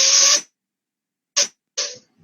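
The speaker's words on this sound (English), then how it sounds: "there is some sort of vibration in between this two paper sheet, and it is actually giving you a spot, like a cause of sound." Air blown between two folded paper sheets makes a buzzing, hissy flutter as the paper vibrates, heard in three short bursts: one longer opening burst, then two quick ones after a pause.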